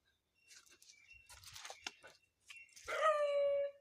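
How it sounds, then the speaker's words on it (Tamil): A dog barks in a corn field on a farm, a few faint, distant barks mixed with bird chirps, followed by a louder drawn-out whine or howl. "நாய் வேறு ஒன்று குலைக்குது"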